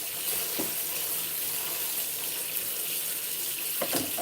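Tap water streaming steadily into a sink while a chunk of fresh ginger is washed, a continuous close splashing hiss broken by a few louder knocks and scrapes.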